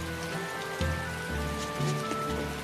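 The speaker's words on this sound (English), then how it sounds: "It rains so much in Westgan." Steady in-game rain falls over the town of Westgan in Tales of Berseria, a constant soft hiss of drops running under calm sustained background music.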